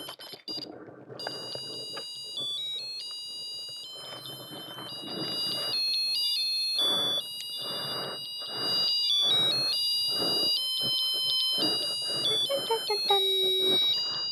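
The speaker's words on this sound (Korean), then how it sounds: "요거를 다시 연결을 해서 멜로디 소리를 한번 들어보도록 할게요." A musical Christmas greeting card plays a thin, electronic beeping carol melody continuously, tinny and close, with clicks and rustling handling noise underneath.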